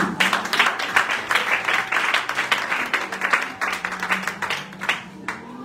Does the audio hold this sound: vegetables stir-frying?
no